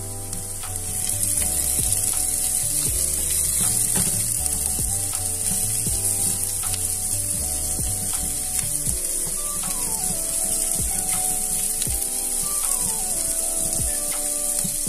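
Asparagus sizzles steadily in a frying pan with browned onion, a continuous bright frying hiss with occasional clinks and scrapes of a utensil against the pan.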